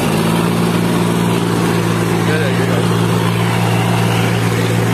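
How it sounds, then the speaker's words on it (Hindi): A John Deere 5050D and an Escort 325 tractor run at full throttle on a wet, muddy field, a loud, continuous, steady engine roar with no pauses and no voices. "फुल फुल रेस दे रखी दोनों ट्रैक्टर की।"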